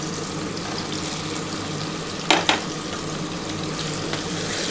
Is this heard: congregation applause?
no